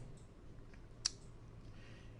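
One faint, sharp computer mouse click sounds close by over a quiet room hum.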